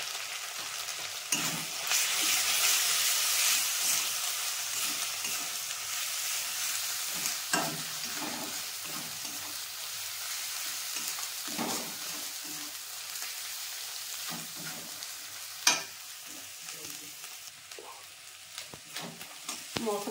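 Ground cumin, coriander and chili powders fry in a pan for mutton paya, a moderate, steady sizzle with intermittent scraping stirs and occasional clinks, no speech.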